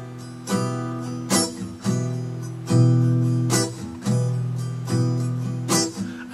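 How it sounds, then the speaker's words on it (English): An acoustic guitar plays a steady repeating strum pattern with the accented seventh stroke muted into a short percussive chop, chords ringing between the choked hits, played alone at moderate tempo. "add a muting effect to stroke number 7 on which you're already placing stress"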